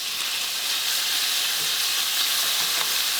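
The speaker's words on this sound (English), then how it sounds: "the first thing we want to do is fry our bacon" Bacon fries in a pan on medium-high heat, a steady close crackling sizzle that runs without a break, no voices.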